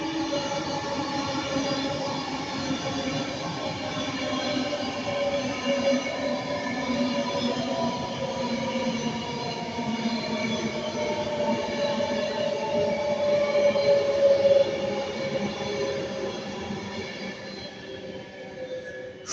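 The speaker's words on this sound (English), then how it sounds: "This Pendolino." An 11-carriage Pendolino passes at Ardwick, a steady, loud rolling roar of wheels on rail lasting throughout, swelling slightly toward the end, with a faint sustained wheel squeal.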